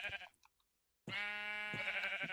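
A Minecraft sheep lets out one long, clear bleat after a moment of near silence, close and fairly loud.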